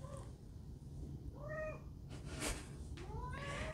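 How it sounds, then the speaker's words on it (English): A pet cat meows indoors in a few separate, rising and falling calls, close and fairly clear over a quiet room hum. "if you're not petting her, she's meowing"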